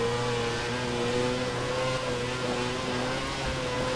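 An F1 car engine from F1 2011 on the Monaco street circuit holds a steady high-pitched drone with clear harmonic lines, sustained and loud without breaks, no voices heard.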